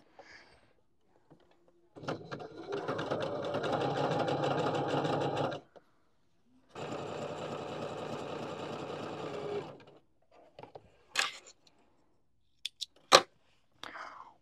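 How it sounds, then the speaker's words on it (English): Sewing machine stitching a fabric tube for a knotted headband at a quarter-inch seam, two steady whirring runs of a few seconds each separated by a pause, followed by scattered clicks and handling sounds. "And sew with a 1/4 inch seam allowance."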